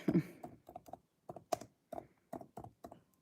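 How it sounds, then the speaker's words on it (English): Close clacking keystrokes on a computer keyboard as keywords are typed, coming in short irregular clusters with brief pauses between them. "I'm just typing in some keywords."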